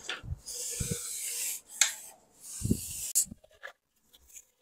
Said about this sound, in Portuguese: Para recortar a placa grossa é isso, ó.